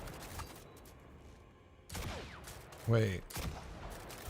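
Guns firing in the Destiny 2: Edge of Fate video game, a couple of loud booming shots between stretches of quieter game noise, with someone speaking briefly over them.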